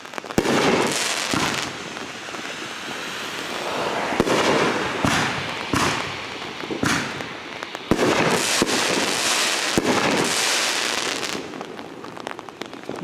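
Fourth of July fireworks pop and crackle in dense, overlapping bursts, with sharp booms going off repeatedly through a steady crackling hiss that sounds like rain on a surface.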